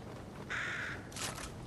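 Two loud, harsh caws from a purple bird in Fortnite, each a short raspy burst with a brief gap between, heard alone over faint background ambience.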